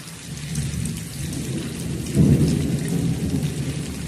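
Heavy rain falls in a steady hiss while deep thunder rumbles, swelling to a loud roll about midway before easing back under the downpour. No voices.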